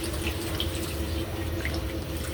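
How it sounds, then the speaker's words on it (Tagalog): Tap water runs steadily into a cooking pot of beef for a home-cooked dish, a continuous close splashing and gurgling flow with no talk over it. "lagyan na po natin ng tubig"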